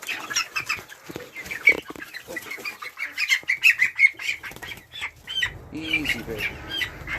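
Cochin chickens squawk and cluck repeatedly close by, with scattered rustling and a few quiet words spoken nearby.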